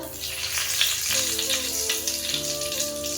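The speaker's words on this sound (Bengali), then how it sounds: "একটা গোটা লঙ্কা, দুটো তেজপাতা," Whole chili and bay leaves dropped into hot mustard oil in a heated wok for a Bengali chicken curry, giving a steady, close crackling sizzle with no talk.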